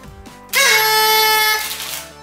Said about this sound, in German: Deshalb bekommt mein Minion hier auch eine kleine Tröte noch, die er fleißig pfeifen kann, tröten kann